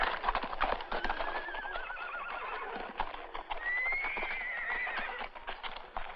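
Cavalry horses whinny loudly and hooves clip-clop nearby as soldiers dismount, with shuffling movement and one long drawn-out neigh rising near the end.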